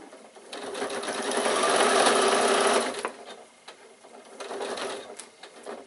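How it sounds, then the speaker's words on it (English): A sewing machine stitches a bag lining seam in two bursts, a close, fast mechanical whir that swells for about two seconds, pauses briefly, then resumes more softly, with no voices. "So sew down to where the seam is."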